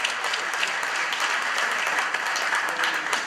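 Sustained audience applause at a Delta 2015 gathering, a thick even wash of many hands clapping at once, loud and continuous with no voices on top.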